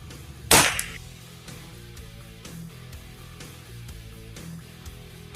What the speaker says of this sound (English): Out here on the backyard range again. Doing a little plinking.